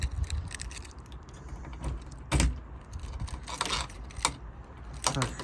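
Keys jangling while a roulette-style mechanism in a vehicle is unlocked, scattered bright metallic clinks and rattles in short bursts against a quiet background with no talking.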